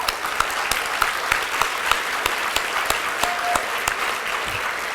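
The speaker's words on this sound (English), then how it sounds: "Let's have one more round of applause" Audience applause at a charity breakfast event, a steady wash of clapping from a seated crowd that carries through the whole stretch, with sharper individual claps standing out near the front.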